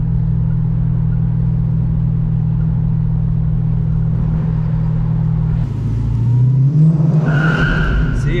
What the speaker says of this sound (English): See, it just starts peeling out.